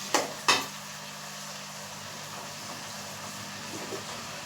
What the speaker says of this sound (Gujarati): બટાકા એડ કરી અને આપણે બરાબર મિક્સ કરી લેશું